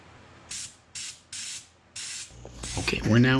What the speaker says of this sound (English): Okay, we're now adding the orange peel texture.